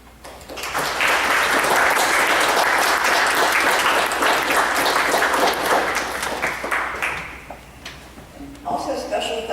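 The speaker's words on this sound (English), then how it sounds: "please stand so we may give you a round of applause and thank you for your service" A church congregation breaks into loud, sustained applause for members who served on a fellowship committee. The clapping swells quickly, holds for several seconds, then tapers off as a voice starts speaking.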